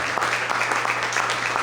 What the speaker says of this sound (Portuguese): Mais forte as palmas.